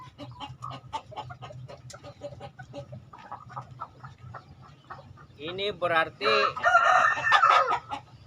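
Bangkok breeder hens cluck softly and a rooster lets out a loud, close crow near the end, while someone talks in Indonesian over the farmyard bird calls.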